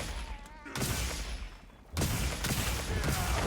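Hammer big bang combo in the Monster Hunter Wilds video game: a heavy impact lands early and is followed by a brief lull, then a second loud crashing blow with continuing rumbling hits, close and forceful.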